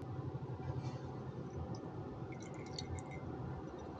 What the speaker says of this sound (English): And then pour over the consommé.